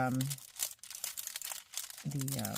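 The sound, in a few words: crinkling of window envelope paper being pulled off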